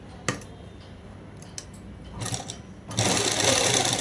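A sewing machine stitches a folded shirt seam, with a couple of faint mechanical clicks, then a steady rapid whirring hum building near the end, close and fairly quiet with no speech.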